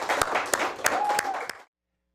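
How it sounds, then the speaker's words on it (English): Studio audience applause for a late-night talk show guest, a dense burst of clapping with some cheering that runs about a second and a half and then stops abruptly. "Everybody, big round of applause."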